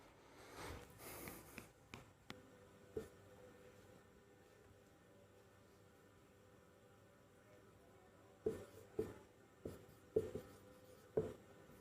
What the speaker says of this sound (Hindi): चलिए एक और क्वेश्चन मैं आपके लिए लिखता हूं